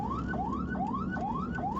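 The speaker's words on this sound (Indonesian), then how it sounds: "Meski sopir ambulans Puskesmas Cisoka ini sudah membunyikan sirine dan klakson berkali-kali" An ambulance siren from a community health clinic wails in a rapid, repeating rising sweep, sounding steady and fairly faint on a main road in Tangerang, Banten.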